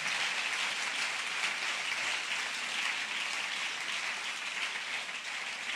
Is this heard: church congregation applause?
yes